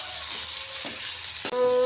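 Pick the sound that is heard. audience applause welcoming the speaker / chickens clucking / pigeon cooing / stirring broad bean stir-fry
stirring broad bean stir-fry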